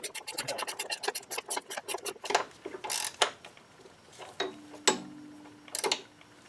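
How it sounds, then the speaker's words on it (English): A geared wrench ratchets on a suspension bolt of an Audi upper control arm, making quick runs of close clicking followed by scattered scrapes and knocks of metal, close up and fairly quiet. "So I'm going to use a 16 to hold the bolt, and a geared wrench."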